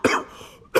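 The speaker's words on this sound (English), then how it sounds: "That's a pretty serious cough." A character coughs in a Star Wars: The Old Republic cutscene on Tatooine, blamed on sand rot: two sharp, close bursts, one at the start and one at the end, separated by a near-silent pause.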